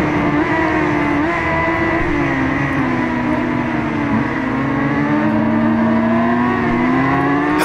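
A Suzuki GSX-R750 sport bike engine in the racing game RIDE 5 at Le Mans screams at high revs, its steady loud tone sagging slightly and then climbing again, close and without talk.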